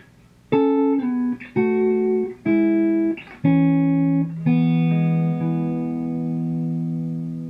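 A slow acoustic guitar passage of single plucked notes and chords, each ringing clearly before the next, ending on a sustained chord that fades.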